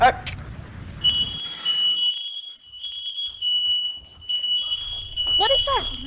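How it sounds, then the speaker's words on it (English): A house smoke alarm shrieks a continuous high piercing tone, loud and steady, with voices talking and shouting around it. "Whose fire alarm's going off?"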